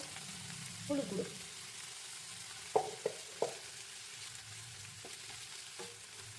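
Broad beans frying lightly in a pan with salt and turmeric, giving a faint steady sizzle with a few brief stirring clatters and scrapes near the middle.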